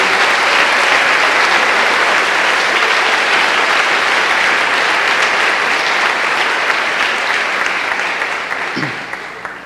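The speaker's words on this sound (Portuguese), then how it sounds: "Por isso que eu queria que você aplaudisse a esse Jesus maravilhoso." A church congregation applauds, steady dense clapping that stays loud and even before tapering off at the end, with a brief voice near the close.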